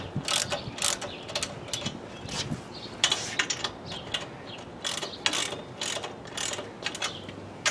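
Ratcheting clicks from a knob being tightened down on a Ransom Rest mounting system, bursts of rapid mechanical clicking repeating steadily and close by.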